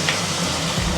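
Mushrooms dropped into a hot pan of cooking carrots, a dense, steady sizzle and crackle filling the whole moment at close range.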